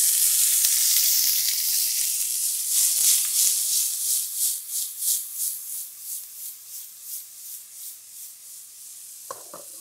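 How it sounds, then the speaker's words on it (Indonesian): Tomatoes frying in a hot pan give off a steady, bright sizzle that fades gradually, with faint stirring scrapes and a short clatter near the end; no one speaks. "Setelah itu kita masukkan tomatnya."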